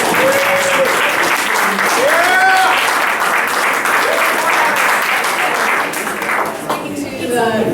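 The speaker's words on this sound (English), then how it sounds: "A round of applause for our excellent speakers tonight." An evening audience applauds its speakers in a long, dense round of clapping, with a few voices and whoops rising over the steady patter.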